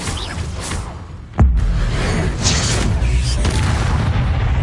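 An Expelliarmus spell in Hogwarts Legacy is cast with a sharp, loud crack and boom a little over a second in, then a dense rumbling wash carries on beneath ambient game noise.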